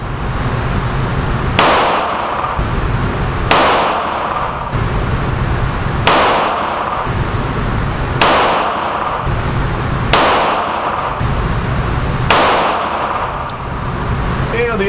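A Smith & Wesson 432 UC revolver fires 95 grain .32 H&R Magnum rounds at an outdoor range: about six sharp, loud, separate shots roughly two seconds apart, each with a short ringing decay.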